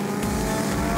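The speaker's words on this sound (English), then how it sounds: "Race 2 gets underway as the competitors peel out from the pit lane where their time comes up." Historic race cars accelerate out of the pit lane at the start of a race, a brief, loud burst of engine roar close by.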